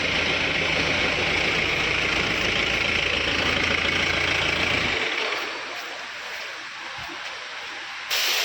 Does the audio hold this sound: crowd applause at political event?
no